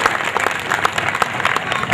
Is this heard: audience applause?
yes